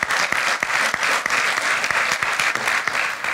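Journalists applauding at a press conference with Netanyahu, a sustained round of close, sharp individual claps forming a dense, loud patter that carries on evenly from start to finish.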